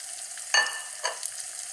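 Mushrooms, some large sliced and some very small, dropped into a hot pan for a vegan Thai mushroom coconut soup: a quiet sizzle with two brief bursts as they land, no talking.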